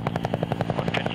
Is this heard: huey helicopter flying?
yes